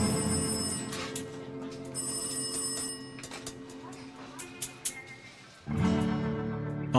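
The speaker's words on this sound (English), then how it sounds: "the phone rings again." An old-style telephone bell rings in short bursts, two trills close together and then a pause, with a voice speaking quietly underneath and again near the end.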